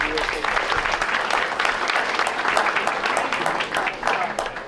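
A school board meeting audience gives a round of applause for young people, sustained crowded clapping that stays even and fairly loud for the whole stretch, with faint voices mixed underneath.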